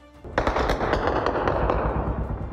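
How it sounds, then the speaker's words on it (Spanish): Loud, rapid bursts of automatic weapon fire ring out during a clash between the Sinaloa and CJNG cartels, shots rattling nearly continuously for a couple of seconds. "los disparos se pudieron escuchar de forma consecutiva, lo cual apuntaría a que se utilizaron armas automáticas de alto poder"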